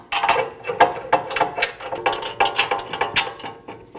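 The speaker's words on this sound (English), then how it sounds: "Now you can tighten those 2 bolts and torque both of them down to 111 foot-pounds." A hand ratchet clicks in quick, even bursts while tightening the brake caliper bolts on a Nissan NV2500 van, loud and close with no talking.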